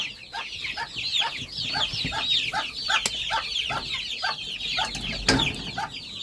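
A busy hen keeps up a rapid, regular run of close clucks while high chick peeps chatter densely over the top throughout.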